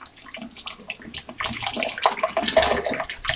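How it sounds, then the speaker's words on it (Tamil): Water pours into a cooking pan while tomato kurma is prepared, a steady close splashing that builds and grows louder and fuller toward the end, with no talking. "இப்போ வந்து கொஞ்சம் தண்ணி விட்டுக்கோங்க"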